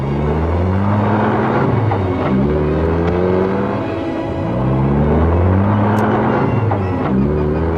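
Several rally cars pull away one after another into the night at the Monte Carlo Rally, with loud engine rumble and rising revs as each car accelerates off.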